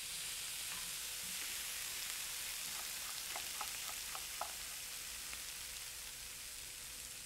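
Garlic fries with softened onions in a pan, a steady soft sizzle with a short run of faint crackles and pops partway through.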